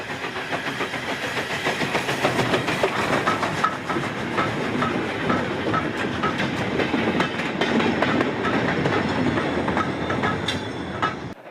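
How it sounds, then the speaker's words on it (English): A goods train rumbles steadily along the rails just after leaving Blaenavon High Level Station, with continuous clattering and rhythmic wheel clicks, loud and close, with a low engine drone throughout. "This goods train has just left Blanavon High Level Station"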